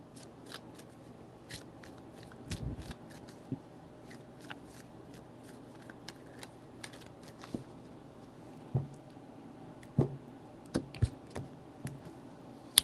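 A deck of tarot cards is shuffled in scattered, crisp flicks and taps, with a few louder snaps near the end, close and fairly quiet and without talk.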